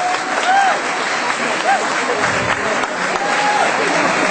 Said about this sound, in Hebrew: קבלו במחיאות כפיים סוערות את נערות הגומי של גרעין לגליל